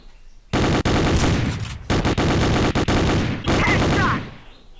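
P90 gunfire in a video game ripping out in rapid automatic bursts, loud and close, with three long volleys separated by brief pauses and no talk over it.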